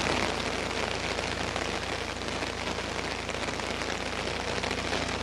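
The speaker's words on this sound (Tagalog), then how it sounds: "nagsimula na namang bumuhos yung malakas na ulan dito" Heavy rain pours steadily during a typhoon in northern Luzon, a dense, continuous hiss of downpour throughout with no pauses.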